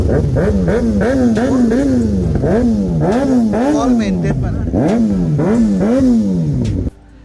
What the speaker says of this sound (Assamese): কি ধুনীয়া বাইক মানে ফুল মডিফাই কৰা আছে